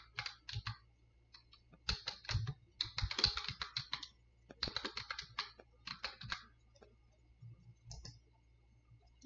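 Typing on a computer keyboard in quick bursts of close, crisp key clicks separated by short pauses.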